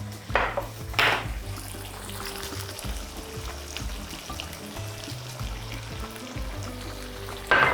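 Chicken breast simmering in curry sauce with about 100 ml of coconut milk, a soft bubbling trickle in a pan with a few clanks of a pot and utensil, no talking.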